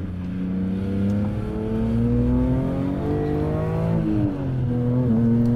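A BMW M3 E46 Touring engine revs hard to 8000 rpm, the pitch climbing smoothly through rising, falling and rising sweeps, loud and close from inside the car.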